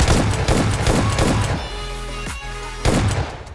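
Rapid bursts of S12 shotgun fire in the video game PUBG Lite, several heavy booming blasts in quick succession, then a pause and a final loud shot, all close and forceful.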